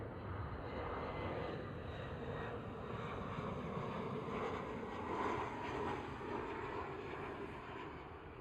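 A KLM Cityhopper Embraer E175 at Schiphol airport, heard as a steady, broad jet engine roar that holds level throughout, swelling slightly midway, with some wind noise on the microphone and no talk.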